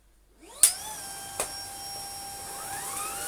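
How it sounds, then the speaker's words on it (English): Shark IC160 DuoClean cordless vacuum on carpet at low suction, starting with a rising motor whine that settles into a steady high hum after a couple of sharp clicks, alone and moderately quiet. "We're going to do one pass forwards and then possibly backwards again on whatever setting it chooses, which will be carpet performance with the suction on low."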